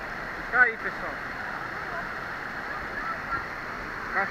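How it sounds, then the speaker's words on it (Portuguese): Water pouring down Cachoeira do Tamanduá, a waterfall descending in several drops, a steady rushing hiss throughout, with a voice speaking briefly near the start. "Cachoeira do Tamanduá"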